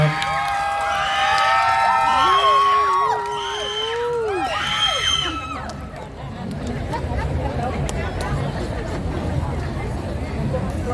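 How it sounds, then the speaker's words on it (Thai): Crowd at a Lampang street festival cheering for a girls' school marching band, loud whoops and shouts with excited children's voices for several seconds, then settling into a dense murmur of crowd chatter and scattered clapping. "ขอเสียงปรบมือดังๆให้กับน้องๆด้วยค่ะ"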